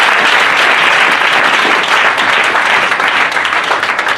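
A church congregation at a consecration ceremony breaks into loud, sustained applause, a dense, even roar of many hands clapping close by for several seconds without pause.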